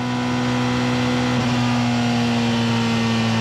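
A Porsche 919 Hybrid race car screams flat out at over 300 km/h at Le Mans, a steady, loud, sustained engine drone with constant high-speed roar and no voices.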